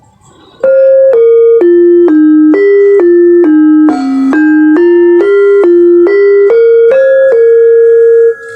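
Bright notes struck one after another on a demung gamelan metallophone in a steady melody, each note cut short and damped by hand before the next, with no talking.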